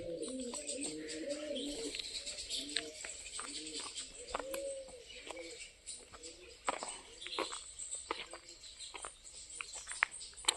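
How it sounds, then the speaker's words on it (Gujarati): Pigeons coo repeatedly inside a village cattle shed, soft rolling calls close by, with scattered chirps and faint rustling around them. "જો કબૂતર અંદર બેઠા ઘઘુરા ને અવાજ આવે"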